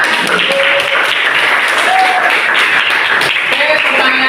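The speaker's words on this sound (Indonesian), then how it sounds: "Beri tepuk tangan." A classroom group gives a burst of applause, dense clapping that fills the short moment, with a few voices calling out over it.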